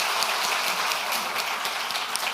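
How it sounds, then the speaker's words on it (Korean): A church congregation applauds loudly and steadily, a dense wash of many hands clapping together in a large room, sustained without pause and with no talking over it. "크게 한번 박수하겠습니다"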